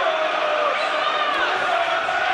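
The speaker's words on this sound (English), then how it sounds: "Crowd trying to create more of an atmosphere, encouraging the home team" Home crowd at a Queens Park Rangers football match, a steady, dense roar of chanting and encouragement from the stands, filling the whole moment without breaks.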